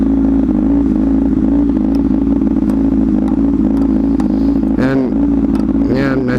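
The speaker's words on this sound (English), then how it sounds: "you can hear my bike's intake right now. It's atrocious." While riding through Phoenix, a motorcycle's intake gives off a loud, steady, close drone with a constant engine hum and wind rush. A voice cuts in briefly near the end.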